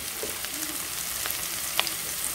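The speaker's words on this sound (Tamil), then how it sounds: "இப்போ நான் இதோடு சேர்த்து இந்த நறுக்கிய கேரட்டு கொஞ்சம் வதக்கிடலாம்" Chopped carrot sautéing in a pan for egg noodles, giving a soft continuous sizzle with a faint stir or two.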